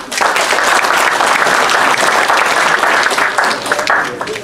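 Audience applause at a gusle concert of traditional folk singers, a dense, steady clapping from a full hall that stays loud and even throughout with no pauses.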